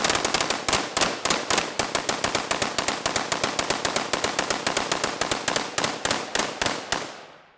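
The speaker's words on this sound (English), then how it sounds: "what we're gonna do is all 2, 4, 6 guns are gonna go off at one time" Six Steyr AUG bullpup rifles fire together in a dense, rapid volley of loud, overlapping shots that rattle on for about seven seconds before stopping abruptly, with no talk.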